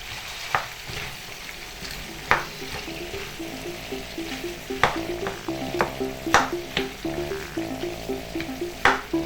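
Red and yellow peppers sizzle in a pot for an African giant snail stew, with a steady frying hiss broken by occasional stirring clinks and scrapes, close and moderately loud.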